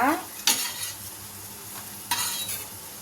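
Slices of bread toasting on a pan in ghee and oil give a soft, continuous sizzle, broken by two sharp clinks of a spatula or utensil against the pan.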